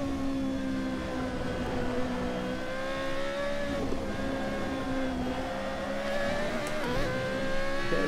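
A Formula Renault 3.5 race car engine from the Assetto Corsa modded game drones steadily at close range, its harmonic pitch rising and falling through gear changes and throttle shifts, loud throughout with no talk.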